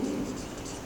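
Brief, continuous scratchy stroke of writing on a board during an electrical lecture on AC circuits, steady and fairly close.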